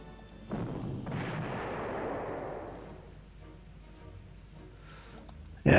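Artillery fire in a WWII strategy game set in Warsaw: a deep, rumbling boom swells and lingers for a couple of seconds, then fades under faint ticking, with a sharp loud burst at the very end.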